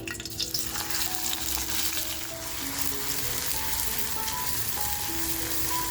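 Sliced onion drops into hot oil in a kadhai with clove, black pepper and bay leaf, giving a loud, steady sizzling hiss that runs unbroken throughout with no talk.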